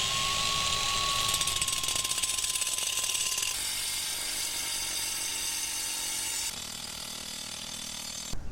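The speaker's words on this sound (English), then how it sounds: "Hook this up to the grinder. We will cut a small channel, put our wire in it" An angle grinder cutting a small channel into a driveway for a robot lawnmower guide wire, a continuous harsh whine with gritty rasping that shifts in pitch as the cut proceeds, running alone without talk.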